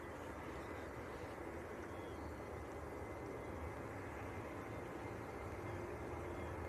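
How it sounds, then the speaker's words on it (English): A Jet2 Boeing 737-800 at Leeds Bradford Airport produces a faint, steady, distant engine roar, a broad, even rumble that holds constant with no talk over it. "Right, this is Jet2 to Alicante. 800 series, 737."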